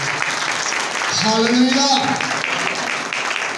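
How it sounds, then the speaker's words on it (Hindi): Loud applause fills a church gathering, steady clapping throughout while a voice calls out briefly and tonal voices rise over the middle of it. "जोरदार तालियां बजाइए।"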